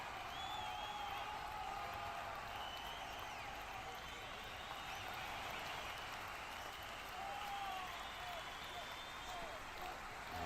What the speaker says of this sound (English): Applause as Matt Grimes comes over to take this one on this left side then.